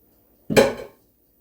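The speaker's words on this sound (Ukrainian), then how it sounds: "я взяла велику миску, сюди все пересипаю" A single short clatter as vegetable filling is tipped from a dish into a large bowl, one sharp hit that decays within half a second in an otherwise quiet kitchen.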